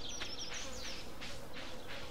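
Small insects drone in Stardew Valley around a mushroom cave, a thin persistent whine rising and falling in short pulses over a constant hum, close and alone.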